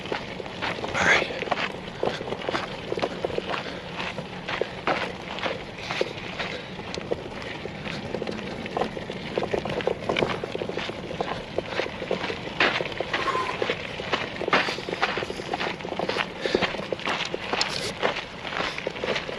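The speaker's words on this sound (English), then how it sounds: "Are you listening that intently to the sound of my footsteps, Ziggy?" Steady footsteps of a person walking outdoors along a long trek, an even rhythmic crunch of steps heard close up beneath a broad hiss of wind and ambient noise.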